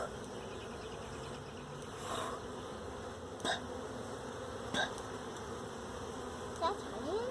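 Honeybees buzzing during a hive inspection, a dense continuous drone close to the listener with occasional brief clicks and taps.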